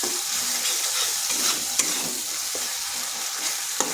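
Spices, turmeric and chilli powder, sizzle steadily in a hot pan for an ivy gourd curry, with scraping stirs and a few sharper clicks of the spoon against the pan throughout, close and with no talking.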